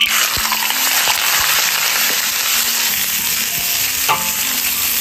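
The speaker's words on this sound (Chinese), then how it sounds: "现在先把肉炒一下" Pork sizzling and being stir-fried in a hot wok with oil, a steady loud crackling sizzle with occasional scraping stirs, close up and without talk.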